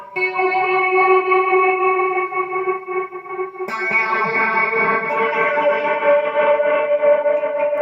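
A sustained, distorted electric guitar chord through a Zoom MultiStomp pedal wobbles with a random-waveform modulation effect, restruck midway and ringing on loudly with no talking.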